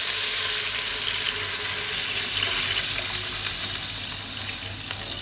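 Water is poured into a cooking pot holding tomato juice for tilapia sinigang, a loud, steady rushing splash that runs unbroken and slowly eases off, with no voices over it.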